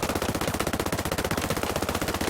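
Rapid automatic rifle fire from Ghost Recon Breakpoint, a loud, close and continuous stream of evenly spaced shots lasting the whole stretch with no pauses and no voices.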